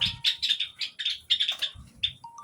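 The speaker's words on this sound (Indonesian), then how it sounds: "Coba mau review anakan burung gelatik belong" Bright, high chirps repeat in quick bursts, several small Java sparrow chicks calling close by with short gaps between calls.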